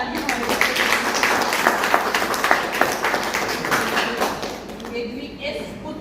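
Applause from an audience cheering child performers at a stage show, a dense wash of many hands clapping that holds steady, then thins toward the end.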